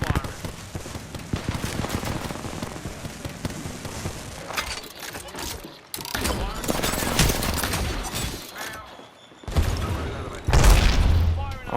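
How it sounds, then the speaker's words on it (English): Knuckle buster guns firing in a video game, dense rapid bursts of gunfire and booms in loud stretches broken by short pauses, with a voice talking over parts of it. "Knuckle busters firing."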